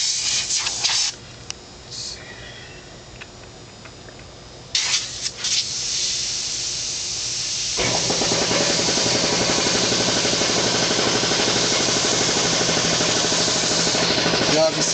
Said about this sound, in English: I'm working with a big compressor, or industrial compressor